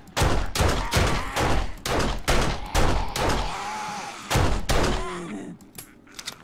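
Gunfire in the zombie survival game 7 Days To Die, Alpha 17 multiplayer: a rapid run of loud, close, evenly spaced shots with sharp thuds, slowing to a few last reports before fading.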